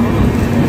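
A train at Sevagram Junction station in Wardha district, Maharashtra, close by with a loud, steady low rumble and a constant droning hum throughout.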